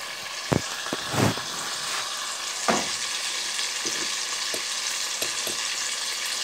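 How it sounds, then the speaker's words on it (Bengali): Pieces of rui fish fry in hot oil in a pan with a steady sizzle, broken by a few sharp clinks and scrapes of stirring, close and continuous with no talk. "আমি একসাথে এগুলো একটু ভেজে ফেলি অয়েল দিয়ে"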